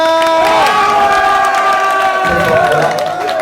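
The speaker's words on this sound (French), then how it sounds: "Du bruit, s'il vous plaît, pour Corentin." Crowd at a live food-challenge event cheers and shouts loudly, voices rising together in a steady roar with whoops throughout a few seconds.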